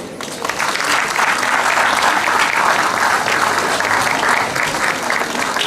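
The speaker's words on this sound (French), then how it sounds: "je pense qu'on peut les applaudir" An audience at a gastronomy fair in Le Mée-sur-Seine bursts into loud, sustained applause, a thick continuous roar of many hands clapping that swells quickly and holds for several seconds.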